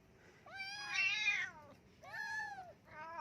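A mother cat and her kittens meow in short, high, rising-and-falling calls, two or three distinct meows close by over a quiet background.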